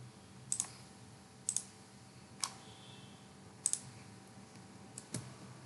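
Keys on a computer keyboard are tapped in a quiet room, about six sharp, separate clicks spread unevenly over a few seconds with pauses between them, faint against a low steady hum.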